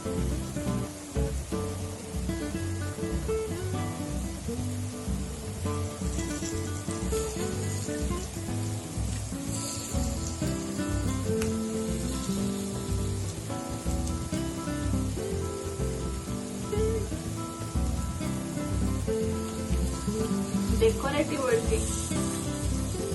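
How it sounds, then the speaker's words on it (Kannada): Cut egg slices frying in a pan for a home dinner, heard as a continuous bright crackling sizzle like light rain, steady throughout with a few louder pops. "ಫಸ್ಟ್ ನಾನು ಈ ಕಡೆ ಸೈಡ್ ಈ ತರ ಇಟ್ಟು ಇದನ್ನ ಫ್ರೈ ಮಾಡ್ಕೊಳ್ತೀವಿ"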